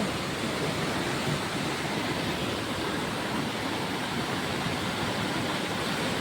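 A constant, powerful rush of flowing water, broad and roaring without pause, like a large swollen river nearby.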